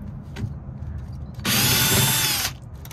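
A power tool unscrews the 1/4-inch screw holding the run capacitor on a Whirlpool top-load washer, with light handling clatter and then a loud, close one-second whir.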